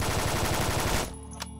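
A Groza carbine in the video game Phantom Forces fires a fast, loud, close automatic burst of evenly spaced shots for about a second, then stops abruptly, leaving a faint tail and one small click.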